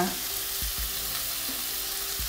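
Ground beef sears in a hot pan with a soft, steady sizzle, a few low thumps and clinks of the pan breaking through at intervals, fairly quiet and without any talk.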